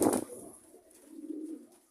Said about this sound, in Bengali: নর কবুতরগুলো ছেড়েছি।